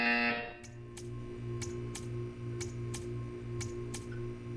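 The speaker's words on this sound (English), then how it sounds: "You will hear a buzzer. When you hear the buzzer, stare at the art." A buzzer in the video game Portal 2 sounds in a sterile test chamber, a run of short evenly spaced electronic pulses about every half second over a low steady hum.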